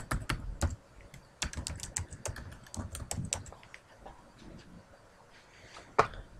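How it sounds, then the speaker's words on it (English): Someone types a URL on a computer keyboard, clicking in quick irregular bursts with short pauses between them and one louder keystroke near the end, no voices. "Type in the URL"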